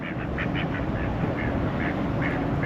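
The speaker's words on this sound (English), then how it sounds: "You got your ducks over here" Several ducks quack in quick, repeated bursts at a pond at a campground in Lexington, moderately near, over a constant loud outdoor wind-like rumble with no talking.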